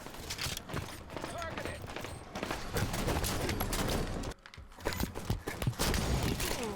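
Pistol gunfire in the shooter video game Halo 5: a quick run of sharp shots cracks through busy battle noise, with a short lull in the middle before the firing resumes.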